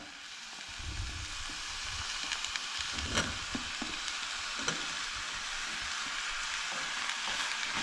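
Tomatoes and cowpeas fry together in a pan while being stirred, giving a constant crackling sizzle with scattered scraping strokes and small pops throughout, with no talking.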